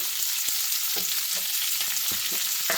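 Green gram sambar masala frying with salt in a pan, a soft steady sizzle broken by scattered light ticks and pops, fairly quiet and without voices.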